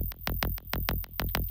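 A psytrance bass sample thinned out with a frequency shifter plays as a tight, repeating pulse of short, punchy notes with bright tops, looping steadily with no voice over it.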